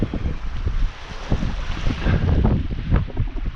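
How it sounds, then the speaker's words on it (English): Strong northerly wind gusting at a coastal fishing spot in Guernsey, with steady rumbling buffets against the microphone and a constant roar of sea and air, loud and unbroken throughout. "it's blowing a strong northerly wind today"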